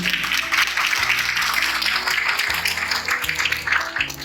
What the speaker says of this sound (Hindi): गुरु जी के लिए जोरदार ताली